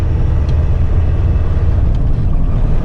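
A 13-liter Mack heavy-haul truck engine pulls hard under acceleration, a loud, steady low rumble and drone filling the whole stretch without a break.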